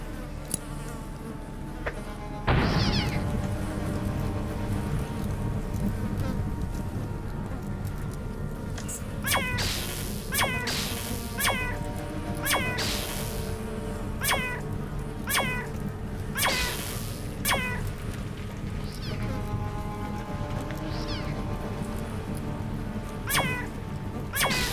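Cats burning in the video game Underrail yowl and caterwaul in a string of repeated, wavering meows over a constant buzzing, crackling game ambience, loud and close throughout.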